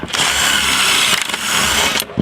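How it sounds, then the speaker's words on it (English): Power drill boring pocket holes through wood held in a pocket-hole jig, a loud steady whine running close up for nearly the whole moment, with a brief dip midway and a drop at the end. "This is a jig for drilling pocket holes."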